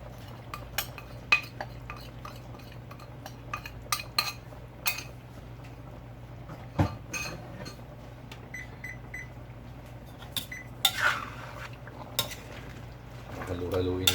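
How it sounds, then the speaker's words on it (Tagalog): Chicken curry is stirred in a pot, with close, scattered clinks and scrapes of a utensil against metal over a low steady background hum, busiest toward the end. "Halu-haluin na natin yan"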